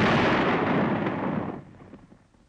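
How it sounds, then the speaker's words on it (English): A 250-kilogram pellet bomb charged with 750 pellets detonates in a sustained, roaring blast that rumbles loudly for over a second, then fades into a long decaying echo, with no voices. "250-kilogram bomb of nearly the same type is also prepared for detonation."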